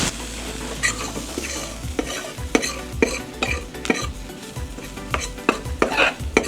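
A spice mix of chili powder, cumin and granulated garlic sizzles in a hot pan for chile con carne while a utensil scrapes and stirs along the bottom. Frying hiss sits under repeated sharp scraping and clinking strokes, near and clear.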